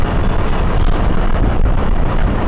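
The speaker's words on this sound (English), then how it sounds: "radiator fin blowing out the hot air out of the engine" A loud, steady rushing whoosh of a KTM Duke 390 motorcycle radiator fan blowing hot engine air fills the whole stretch, broadband and unbroken, with no voices, in Chandigarh summer heat.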